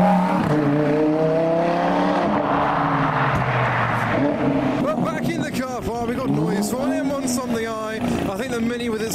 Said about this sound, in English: And from Ferrari, we go to Lamborghini with the Huracan.